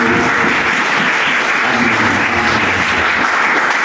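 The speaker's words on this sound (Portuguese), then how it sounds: "Vamos aplaudir o Senhor." A church congregation applauds during a sermon, with loud, dense, continuous clapping filling the space at an even level throughout.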